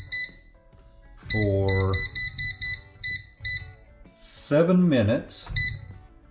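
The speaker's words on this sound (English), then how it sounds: "I'm going to set the air fryer to 300 degrees" An air fryer being set to 300 degrees gives short high electronic beeps, several in a quick series and then a few more, mixed in with a person talking nearby.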